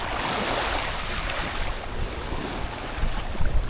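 Waves wash onto a beach in the Cayman Islands, a steady broad surf roar mixed with wind buffeting the microphone, continuous and fairly loud with a slight swell near the end.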